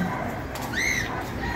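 A single short call rises and falls from one of the white birds feeding on the flowers of a mango tree, heard against a steady outdoor background hiss.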